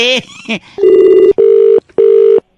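An electronic telephone ring sounds close and loud as three steady tonal bursts separated by short gaps, with a brief voice just before the first ring.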